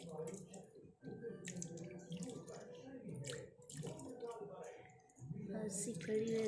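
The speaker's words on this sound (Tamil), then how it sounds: "அரிசி தான் கழுவுற ஃப்ரெண்ட்ஸுங்க" Rice being washed by hand in water, with soft sloshing, splashing and dripping, interrupted by short pauses, while a person talks over it.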